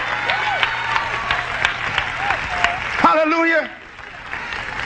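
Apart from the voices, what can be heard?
church congregation clapping hands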